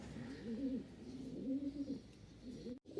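Pigeons coo softly in repeated low, rolling phrases about once a second, faint and somewhat distant against a quiet background.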